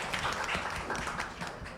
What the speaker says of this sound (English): Let's give her our warm round of applause.